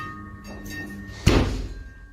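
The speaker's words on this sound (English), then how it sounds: "I didn't like that last bit where you slammed the door." A door slams with a single loud, close thud after a second of quiet room noise, its boom fading quickly.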